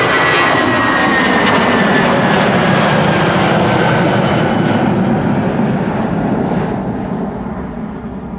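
A British Airways jet airliner bound for London Heathrow roars loudly at Amsterdam Schiphol Airport, a powerful sustained engine rush with a high whine that fades toward the end.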